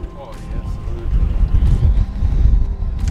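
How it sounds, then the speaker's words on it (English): Strong wind gusting up to 30 knots across a sailing boat at anchor in a bay during a storm, a low roaring rumble that swells and buffets louder toward the end, with faint creaks above it. "It's only gusting to 30 knots, so it's not too bad."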